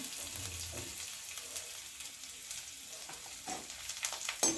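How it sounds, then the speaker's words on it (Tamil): Crushed garlic with its skins frying in oil, a soft, steady hiss of sizzling with occasional faint clinks and stirring sounds, fairly quiet and close. "இந்த பூண்டையும் வந்து நம்ம அந்த எண்ணெயில் சேர்த்துருவோம்"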